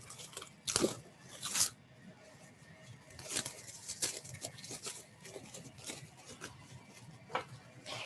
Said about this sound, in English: So now I'm just taking my other layer and unwrapping it.